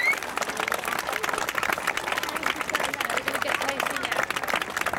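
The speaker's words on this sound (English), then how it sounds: "Can I give them a huge clap, please?" Audience at a school sports day breaking into sustained applause, a dense wash of many hands clapping steadily from fairly close, with crowd murmur and some voices mixed in throughout.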